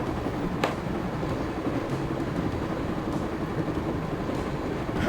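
A train in the video game Broken Sword 5 rumbles steadily along the track, a dense, continuous roar with a brief click near the start, with no voices.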